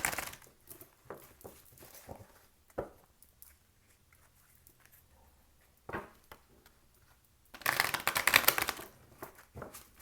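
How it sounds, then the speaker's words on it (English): Tarot cards riffle and shuffle up close in scattered bursts, ending in a louder, dense flurry of papery snapping near the end. "we're going to shuffle this one more time"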